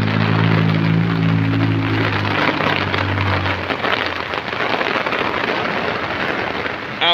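Heavy rain pours steadily in a dense hiss, with a low droning tone underneath early on that fades away; no one speaks.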